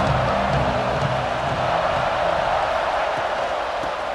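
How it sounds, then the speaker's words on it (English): Dense, steady stadium crowd din from the EA Sports College Football 26 video game, a loud sustained roar of many voices without distinct peaks, filling the whole stretch with no commentary. "This crowd trying to make life miserable for this offense."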